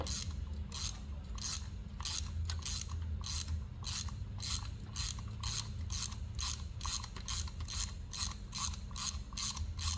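Ratchet wrench clicking in rapid, even bursts while a spark plug is loosened from a 2012 Ford Escape engine, close and clear with no talk.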